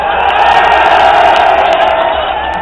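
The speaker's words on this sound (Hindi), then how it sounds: "ताली बजाओ इस बात पे" A large crowd at a political rally for Jayant and Akhilesh cheers and claps loudly and continuously, a dense roar of voices and applause close up.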